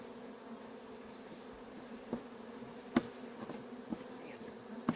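Honeybees buzz around an Apimaye hive as a soft, steady hum, with a few insects passing close in brief louder drones over a quiet outdoor background.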